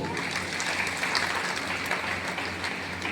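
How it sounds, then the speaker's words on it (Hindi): A large audience claps steadily and densely at a welcome for mentors at a business gathering, a continuous even wash of applause with no breaks. "शानदार ताली होनी चाहिए।"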